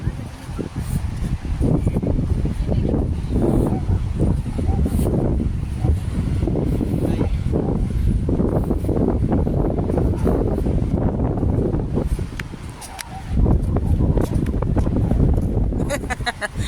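Steady low rumbling wind buffets the microphone throughout on a seaside morning walk in Bantayan, loud and constant, with a brief lull near the end before the gusting returns.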